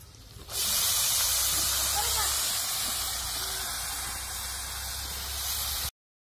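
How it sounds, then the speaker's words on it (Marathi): Washed moth beans tipped into hot fried masala in a pan give a loud, steady sizzle and hiss that starts abruptly and holds for several seconds before cutting off, with a voice faintly present in the background. "मसाला पण चांगला तळला आणि त्याच्यानंतर मटकी धुवून आणि आपल्याला मसाल्यामध्ये टाकायची."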